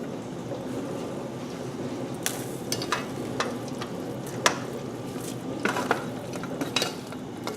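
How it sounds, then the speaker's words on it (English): Beef is stirred into a thick sauce in a pot for a cottage pie: a gentle bubbling simmer runs underneath while a spoon scrapes and clicks in irregular strokes, close by and with no talk. "Stir this beef in here"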